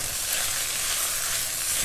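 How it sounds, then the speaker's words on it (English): Crumbled fennel sausage, taken out of its casings, frying in a pan: a steady, close sizzle and crackle that holds at an even level throughout, with no voices. "we're going to cook our sausage for 7 to 8 minutes"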